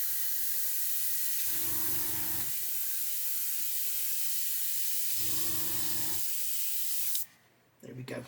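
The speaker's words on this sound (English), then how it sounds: "I've already cleaned the airbrush out 3 times and this is going to be 4 now." An airbrush sprays in a steady close hiss while it is flushed clean, with two short lower-pitched sputtering bursts partway through and a clattering handling noise at the end.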